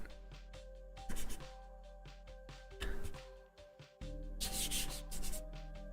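A finger rubs extra chalk off a guitar body being painted with a Big Trouble in Little China design. Soft, close, rhythmic rubbing strokes come and go over a steady low hum, with no talk.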